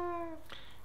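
A short cat meow played from an iPhone app, one brief tonal cry that fades within half a second, then a faint click, quiet and alone.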